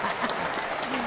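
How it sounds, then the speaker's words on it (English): Studio audience applause on a talk show, a steady dense wash of clapping filling the whole moment at moderate loudness, with no distinct talk over it. "The applause."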